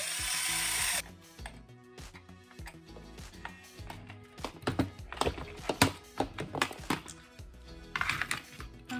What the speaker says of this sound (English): I'm going to drive in the 2-0 screw